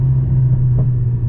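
A Mercedes-AMG CLA 45 four-cylinder engine drones steadily with a low, loud rumble from inside the moving car, no one talking.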